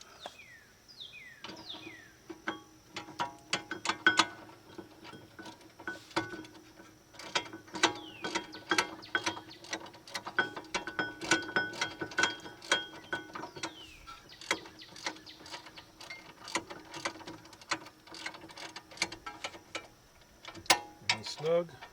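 A hand ratchet tightens a 17mm bolt on the front brakes of a 1996–2000 Honda Civic, a long run of close, rapid clicking strokes in uneven bursts with brief pauses between them.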